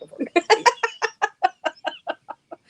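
A chicken clucks about a dozen times in a steady rhythm, close by and fairly clear, with the clucks gradually softening toward the end.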